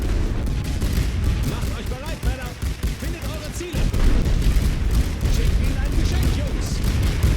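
Mortar and artillery explosions in The Great War: Western Front, a World War I trench battle game, booming repeatedly at close range over a dense rumble of continuous battlefield gunfire.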